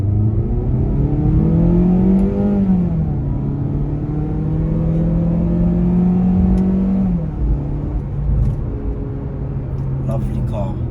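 A Mazda CX-3 Hikari crossover SUV accelerating hard, engine drone climbing through gear changes with steady rising tones, loud from inside the cabin, with a voice over it near the end.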